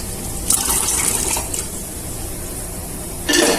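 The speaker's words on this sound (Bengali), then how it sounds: "প্রেসার কুকার দিয়ে এরপর একটু জল দিয়ে দিচ্ছি।" Water is poured into a pressure cooker for dal fry, a continuous close splashing and gurgling stream with brief brighter spurts near the start and again at the end.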